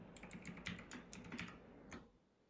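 Computer keyboard typing while PHP code is deleted, a rapid run of light, even key clicks close up over a low background hum, fading out near the end, no voices.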